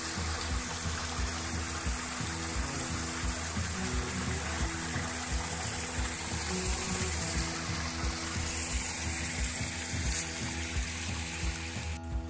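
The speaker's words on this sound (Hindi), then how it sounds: "पानी निकल रहा है" Rainwater flowing out after heavy rain near Sastha Beach, a continuous moderate rush and trickle of running water that stays even throughout, with no voices.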